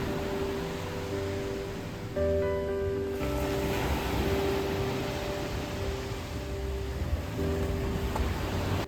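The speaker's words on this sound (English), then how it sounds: "waves crashing softly nearby" Soft surf washing onto a beach at Havelock in the Andaman Islands, a steady broadband wash with gentle swells and faint tonal hum beneath, continuous and fairly close with no talking.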